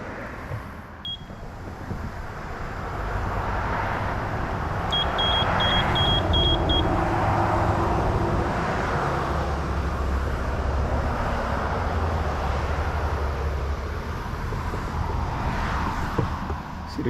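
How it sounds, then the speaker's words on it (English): A Ghost Control dual electric gate opener closing a gate, its low motor hum droning steadily outdoors while a quick series of short high beeps sounds, with wind rumbling across the microphone. "See, the gate is closing."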